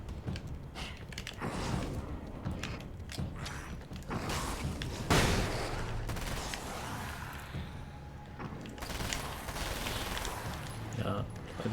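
SMG gunfire in Alan Wake's American Nightmare sounds as dense, crackling bursts mixed with clanks and other game noise, steady and fairly loud throughout.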